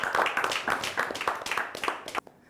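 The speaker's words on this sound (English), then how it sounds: "Big round of applause, Rohan." A crowd applauds with dense, steady clapping that cuts off abruptly near the end, leaving quiet room tone.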